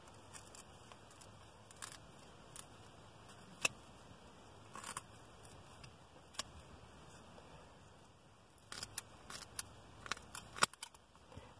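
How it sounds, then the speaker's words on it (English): Scissors cut through wire during house battery repairs, making faint, sparse clicks and snips scattered over a quiet room, with a denser run of cuts toward the end. "I have a difficult time cutting wire because I don't have a really good grip. So I end up using these scissors."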